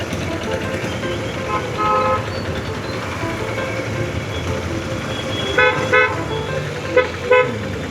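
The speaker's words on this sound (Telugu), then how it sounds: "హారన్ మీద హారన్ పడుతున్నాడు." Car horns toot in short bursts amid a constant rumble of road traffic at night in Guntur, India, just after rain, the honks growing more frequent toward the end.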